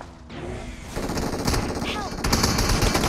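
Gunfire in a multiplayer vehicle-combat video game, a rattle of rapid automatic shots that gets louder and denser toward the end, with a voice talking over it.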